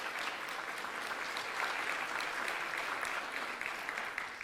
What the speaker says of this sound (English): please clap for that